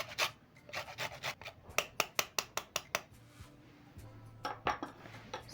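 A lemon is grated for zest for a lemon loaf cake, giving quick, close, scratchy rasping strokes in short bursts of rapid back-and-forth rubs with brief pauses between, quiet and without speech.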